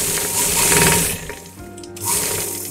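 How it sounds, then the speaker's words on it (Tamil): A sewing machine runs in fast bursts as it stitches down a double-folded neck edge on a garment finished without canvas or lining, loud and close, with a brief slowdown partway through before the rapid needle chatter picks up again. "ஒரு டபுள் ஃபோல்டு பண்ணி இந்த மாதிரி நம்ம மடித்து தச்சுக்குவோம்."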